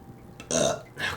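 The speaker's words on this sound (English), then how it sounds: "Good burp." A single close burp, short and voiced, with a brief second gulp-like tail right after, heard alone in a quiet room.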